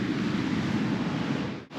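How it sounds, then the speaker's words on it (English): Strong morning wind buffets the microphone on a beach, a steady loud roar with low rumble and no voices, dropping out briefly near the end. "It's pretty windy this morning"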